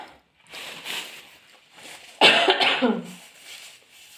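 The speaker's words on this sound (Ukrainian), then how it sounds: "Кашель даває сухий, невозможно." Several dry, harsh coughs close to the mic, one sharp burst standing out, with quieter breathy sounds around them.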